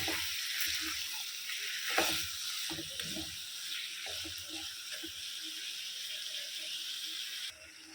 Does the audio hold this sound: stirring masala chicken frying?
yes